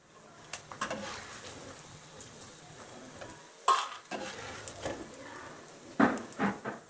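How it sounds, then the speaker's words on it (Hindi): Edible gum (gond) frying in ghee in a kadai for oats laddu, a steady soft sizzle with a few louder stirring scrapes and bursts, close and alone without talk. "गोंद को गोल्डन ब्राउन कलर और अच्छी तरह से फूल जाने तक भून लेंगे।"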